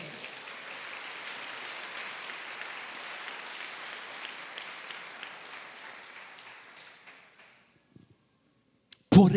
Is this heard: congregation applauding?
yes